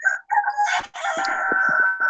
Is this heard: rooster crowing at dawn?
yes